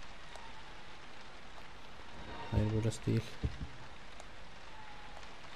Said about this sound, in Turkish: Yağmur yağıyor, burada da yağmur yağıyor